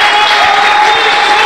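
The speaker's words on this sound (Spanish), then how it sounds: "Vamos a recibirlo con un fuerte, pero fuerte aplauso" Studio audience applause on a variety show, a dense, steady wash of clapping that fills the whole moment loudly with no talk over it.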